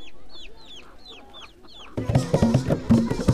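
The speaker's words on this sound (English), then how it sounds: "People have chickens." High squeaky bird calls repeat at first, then chicken clucking and low fowl chatter take over, busy and fairly close, in Uganda.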